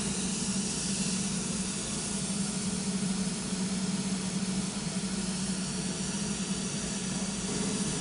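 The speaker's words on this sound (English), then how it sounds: "In a minute, you'll hear the mist start coming through the system." Aeroseal sealant mist blowing through home ductwork makes a loud, unbroken hiss with a low steady hum beneath, constant from start to finish.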